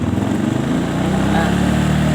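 A Kawasaki ZX motorcycle engine, whose stator output is unstable, is run up under throttle. It gives a steady, close droning hum that rises slightly in pitch partway through, with no speech over it.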